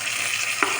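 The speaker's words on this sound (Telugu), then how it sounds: "పుదీనా, కొత్తిమీర 2 కలిపి ఫ్రై చేసుకోవాలి." Mint and coriander leaves frying together in a pan for egg keema: a steady, even sizzle with a short clink of stirring near the end, no talking.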